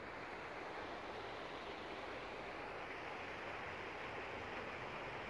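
A river flows steadily with a continuous, even rushing hiss. It is fairly faint, with no voices.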